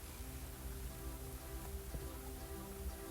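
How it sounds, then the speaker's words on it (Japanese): Steady rain drumming on the roof of a Daihatsu Hijet Cargo van, heard from inside after sound-deadening treatment: a continuous, even, muffled patter with no voices. "そしてこれが設置後の雨音。"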